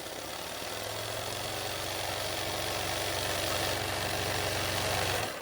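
An embroidery machine stitching piping thread on a beginner's design runs with a steady, close mechanical hum and a rapid, even whirr throughout, with no voices.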